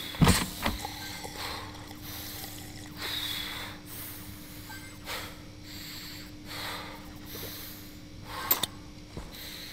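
A game character in Stationeers, out of water on Europa, huffing and puffing: breathy snorts and gasps repeat over a steady mechanical hum, with a sharp clatter near the start and another near the end.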